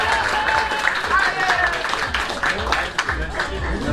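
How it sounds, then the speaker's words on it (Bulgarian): Applause from the audience at a quiz-game results announcement for a competing team, a dense, steady wash of many hands clapping close by and continuing throughout without pause. "Аплодисменти за играта им."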